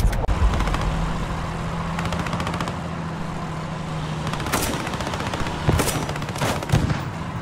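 Gunfire in the video game Post Scriptum, a long sustained burst of rapid automatic shots with a few louder single cracks near the end, loud and continuous over a steady low engine-like hum.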